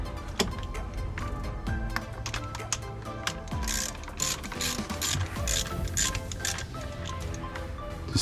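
A ratchet snugs up bolts from the middle outward while finishing an install on a daily driver, giving rapid clicking pawl bursts repeated in several close, fairly loud runs with brief pauses and no talk.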